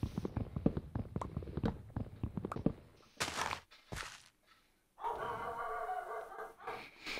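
Dogs barking in the block-building video game Minecraft, a run of short sharp yips and barks at moderate loudness over footstep-like thumps, followed by a steadier noisy stretch of game sound.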